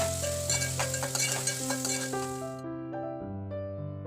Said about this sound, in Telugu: ఇప్పుడు ఒక పెద్ద ఉల్లిపాయ సన్నగా తరుక్కుని వేసుకోవాలి. 2 పచ్చిమిర్చి కొద్దిగా ఉప్పు వేసి వేయించుకోవాలి.